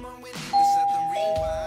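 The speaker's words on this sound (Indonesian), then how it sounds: "Aku tekan belnya ya." A doorbell rings at night in an Indonesian TikTok drama, giving two clear, loud chime tones in quick succession that ring out close by with no talking.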